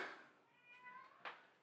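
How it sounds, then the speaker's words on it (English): A pet cat walking around a room and meowing: one drawn-out, fairly quiet meow with a rising and falling tone, close by, followed by a short sharp sound at the end, with no talking. "My cat is just walking around the room, meowing at me."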